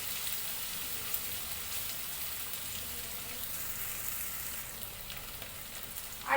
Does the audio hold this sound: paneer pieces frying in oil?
yes